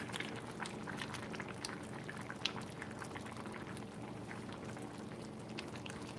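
A simmering pot of fish bubbles steadily while it is stirred, with soft scraping where it sticks to the bottom, a continuous low burbling texture with faint clicks throughout.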